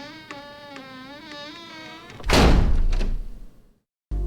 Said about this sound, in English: David Kinker leaves the waiting room and carefully closes the door.